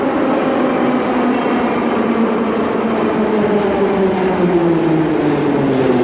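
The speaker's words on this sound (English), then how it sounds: "Metro is loud as fuck." Riding a metro train produces a loud, constant rumble and roar with rising and falling mechanical whine from the wheels and motors, filling the whole stretch without pause.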